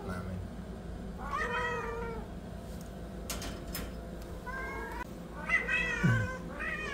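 A male fold cat meows and caterwauls in several drawn-out, wavering cries spaced a second or two apart, fairly quiet against a low background hum.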